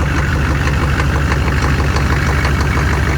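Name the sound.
engine firing and idling after 30 degree cold start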